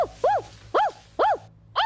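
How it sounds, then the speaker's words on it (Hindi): A dog barks four times in a steady rhythm, sharp, fairly loud and close, with no talking. "इस तरह भौंकने की जरूरत नहीं है।"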